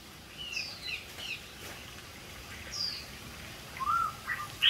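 Zebra doves in a cage give faint, scattered high chirps and short calls against a steady background hiss, with a few brief bursts spread across the stretch.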